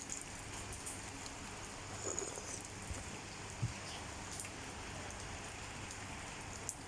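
Rain drips steadily around a villa garden in the UAE, a soft continuous patter on surfaces and leaves, with a few louder isolated drops standing out against the hiss.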